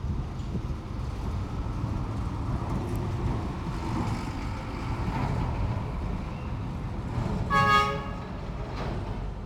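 Road traffic rumbles past nearby, with a steady low roar of engines and a short horn toot toward the end.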